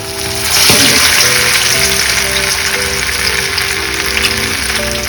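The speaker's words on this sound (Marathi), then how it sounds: "तेल तापलेलं आहे, तर आपण आता डीप फ्राय करून तळण्यासाठी" Tilapia pieces deep fry in hot oil, a loud, steady bubbling sizzle that carries on alone and close throughout, with a brief burst of crackle near the start.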